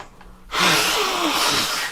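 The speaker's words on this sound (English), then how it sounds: "then I fucking sneezed so hard" A sudden loud, breathy burst erupts about halfway in and holds as a sustained noisy blast to the end, fitting a hard sneeze by a podcast host, preceded by quiet room tone.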